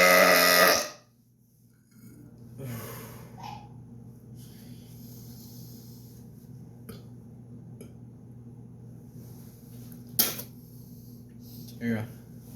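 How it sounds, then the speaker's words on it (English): A loud, harsh burp bursts out at the start and cuts off sharply, followed by a quieter stretch of low hum, a few breathy noises and small clicks and knocks. "You just want the burp, not your,"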